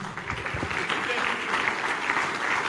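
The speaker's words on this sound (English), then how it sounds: "please keep clapping, keep clapping, keep clapping" An audience at a public event welcoming Nigerian politician Peter Obi claps steadily in a continuous wash, with a voice speaking over the applause.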